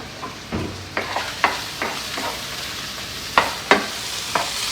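Chicken sausage frying in a pan, a soft steady sizzle broken by a series of sharp scrapes and knocks as the pieces are tossed and stirred, close and without talk.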